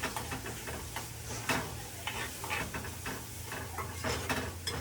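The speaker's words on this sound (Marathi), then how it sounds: "आता सोपं आपण कांदे टाकले याच्यामध्ये. आता अरे कांद्याला एकदम लाल लाल व्हायला पाहिजे फटाफट." Onions fry in a pan, giving a soft continuous sizzle broken by repeated scraping stirs of a utensil against the pan, quiet and close with no talking.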